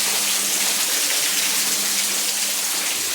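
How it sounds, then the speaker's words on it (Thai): A waterfall roars with a dense, steady rush of falling water, loud and close, unbroken from start to finish. "มีน้ำตกเสียงน้ำตก"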